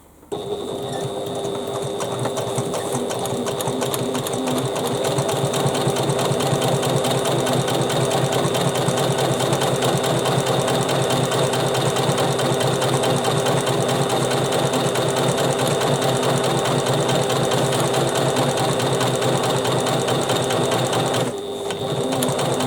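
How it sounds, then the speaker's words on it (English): A sewing machine runs steadily while top stitching a fabric bag with the seam facing down, its fast even whirr loud and close, continuing for about twenty seconds before a short stop near the end. "we want to top stitch with the seam facing down."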